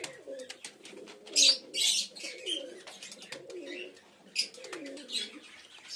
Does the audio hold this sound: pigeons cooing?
yes